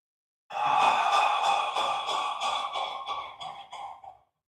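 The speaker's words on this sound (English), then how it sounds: "Big breath in and out the mouth" One deep breath is drawn in and then released slowly through the mouth, a close, airy exhale that fades out over a few seconds in otherwise silent surroundings.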